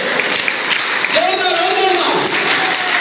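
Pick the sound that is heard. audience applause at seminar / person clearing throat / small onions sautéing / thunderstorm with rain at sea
audience applause at seminar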